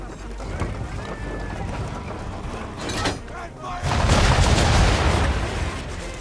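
Cannon fire and a gunpowder blast ring out in an Assassin's Creed 3 naval battle, a loud broadband burst swelling near the end over ocean and ship noise, with voices talking underneath.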